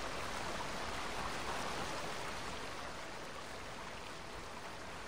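In the video game Rime, a waterfall gives a continuous broad rushing hiss, steady and fairly loud, with no voices over it.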